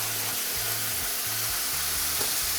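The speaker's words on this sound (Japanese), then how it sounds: "弱火から中火で炒める。" Clams sautéing in a pan over low to medium heat for a clam and tomato one-pan pasta, giving a steady, soft sizzle close by with no voices.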